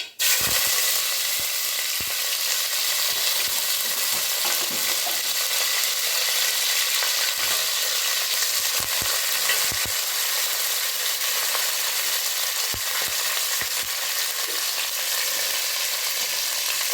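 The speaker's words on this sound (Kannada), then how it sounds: "ಎಣ್ಣೆ ಬಿಸಿ ಆಗಿದೆ ಈಗ ಸಾಸಿವೆ ಹಾಕ್ಬಿಡೋಣ ಸ್ವಲ್ಪ ಹಾಗೆ ಸ್ವಲ್ಪ ಕರ್ಬೆ ಸೊಪ್ಪು" Mustard seeds and curry leaves sizzle in hot oil with a loud, dense, continuous crackling hiss, punctuated by sharp pops and spits from the seeds, close and alone.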